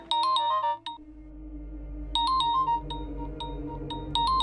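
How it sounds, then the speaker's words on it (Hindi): A phone ringtone plays a bright repeating electronic melody, pausing briefly before starting again, loud and clear with no talking. "लगता है इन्हीं का फोन है।"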